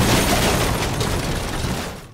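A truck blows up in the video game Total Overdose, producing a loud, dense, roaring explosion blast that fills the short moment and slowly dies away, with no talking over it.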